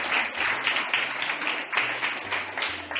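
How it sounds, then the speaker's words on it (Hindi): Classmates clap for a student in a school classroom, a loose, uneven round of applause with individual hand claps standing out and rising and falling over a few seconds. "हिमांशु खड़े हो गए हैं, एक बार इनके लिए ताली"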